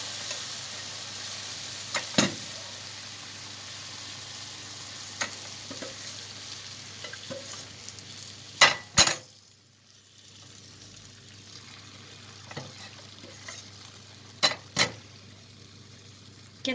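Hot baked phyllo nests fresh from the oven give off a quiet, steady sizzle as syrup is poured over them, broken by a few sharp clinks and taps, with no talking.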